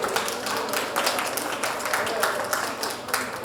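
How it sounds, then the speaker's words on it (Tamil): An audience at a TNSWDPWO annual day event applauds for Mrs. Girija with a brisk, sustained burst of many hands clapping. It carries steadily for a few seconds, with a voice faintly underneath. "திருமதி கிரிஜா மேடம் அவர்களுக்கு அனைத்து கைத்தட்டல்களும் உரித்தாக்கும்"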